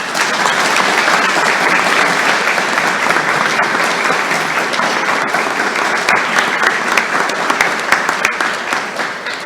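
Sustained, loud audience applause at an Air Force Junior ROTC summer flight academy awards ceremony, dense steady clapping with no one speaking.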